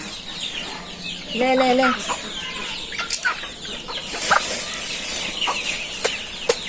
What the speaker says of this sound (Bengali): তোমার মুরগি করকর করে ডাকতেছে।